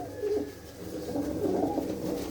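Pure-bred pigeons belonging to Sarni Chakeriya and Dheera, village head of Lalluana, coo close by in a dense, continuous low rolling murmur of several birds calling together, with no voices over them.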